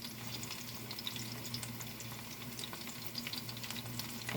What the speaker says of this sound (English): I'm not frying big pieces of chicken.